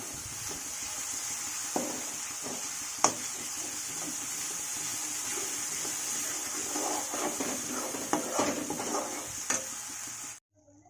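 Chickpeas are stirred with cumin and coriander powder in a pan, producing a faint continuous sizzle with scattered spoon scrapes and clicks against the pan, ending abruptly in silence.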